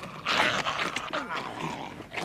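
A dog growls and gives rough, snarling barks in a tense film scene, close and agitated, with voices overlapping the noise.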